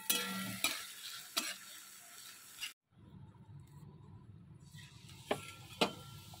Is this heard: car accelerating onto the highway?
no